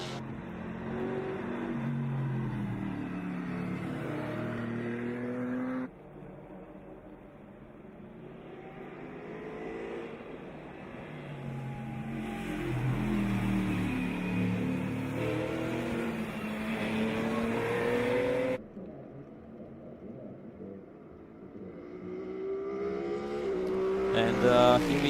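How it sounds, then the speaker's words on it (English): GT and BTC4 race cars roar past on the track at the BaTCC Grand Finals 2023, engines rising and falling as they pass, moderately distant, with shifts in the crowd and ambient noise throughout. "the fast cars are flying by us"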